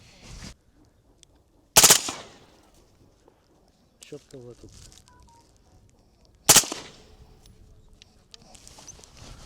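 An M4A1 rifle fires in short automatic bursts, with two loud sharp bursts standing out among quieter clatter and scattered talk.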